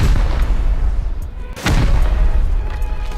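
A heavy rocket blast from the survival game Rust booms through a constant loud rumble, with a sharp burst about halfway through that swells and then settles back into the low roar.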